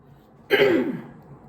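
One close, loud throat clearing, a rough rasping burst that trails off into quiet.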